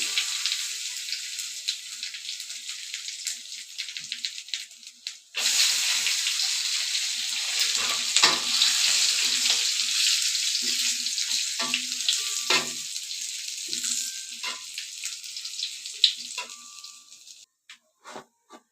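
Panch phoron spices and cashews fry in hot oil, a steady close sizzle that jumps sharply louder a few seconds in and then crackles on with small pops until it fades near the end.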